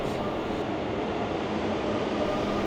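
An electric locomotive pulls a passenger or freight train past with a steady, loud rumbling roar that holds evenly throughout, with no pauses or distinct clanks.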